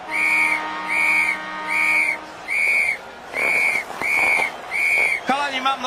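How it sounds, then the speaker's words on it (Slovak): A new whistle blown in seven short, even blasts with steady gaps, close and loud, ending in a quick warbling trill. "mám novú píšťalku"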